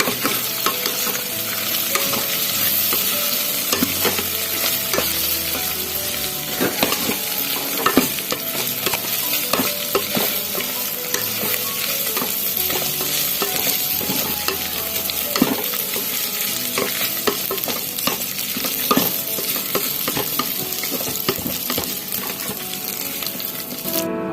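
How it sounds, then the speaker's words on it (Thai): Continuous sizzling and scraping of a utensil stirring minced pork with holy basil in a rice cooker pot, with occasional metallic clinks, steady and close throughout. "ก็ผัดต่ออีกแป๊บหนึ่งนะคะ"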